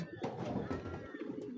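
Pigeons on a pigeon farm give soft, low cooing that blends with rustling and faint background noise across a brief stretch, fairly quiet and close.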